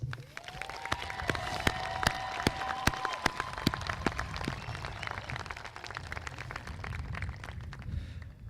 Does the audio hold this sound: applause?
yes